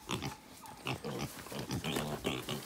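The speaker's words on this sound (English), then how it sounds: "Where's Big Pig? There's Big Pig." Pigs grunt and oink repeatedly at close range on a snowy day, a rough, uneven series of snorts and squeals filling the whole stretch.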